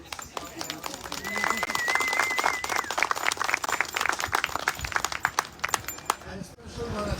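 An audience at an outdoor tree dedication ceremony applauds a pair of musicians with sustained, busy clapping that rises and then thins out, a voice speaking over it near the start.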